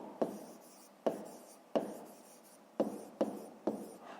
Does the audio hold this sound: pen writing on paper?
yes